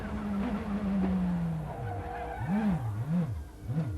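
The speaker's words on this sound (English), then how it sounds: "you can hear him feeding the throttle in as it came off of turn 2, searching for the traction on those cold tires" Sports car racing at Sonoma on cold tires, squealing loudly through a corner: a long sliding tire squeal, then several rising and falling squeals as the car fights for grip, with engine noise underneath.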